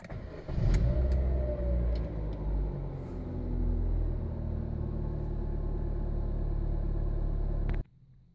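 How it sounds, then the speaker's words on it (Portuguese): Chevrolet Onix car engine cranking and starting, a steady close idle rumble that runs for several seconds before cutting off abruptly near the end. "esse aqui é o barulho da partida do Onix"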